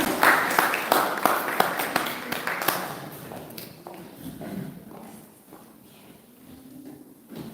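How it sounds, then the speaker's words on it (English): A small class claps for a guest speaker at a Catholic social teaching session, with a burst of close, scattered handclaps that thins out and fades, while voices murmur underneath. "Let's give her a round of applause."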